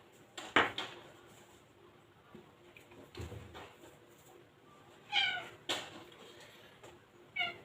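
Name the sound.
cat meowing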